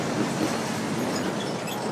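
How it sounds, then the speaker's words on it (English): A Florida East Coast Railway train rumbles past close by, a steady broadband roar with faint rhythmic clatter of wheels on rails, continuous throughout. "Nice train."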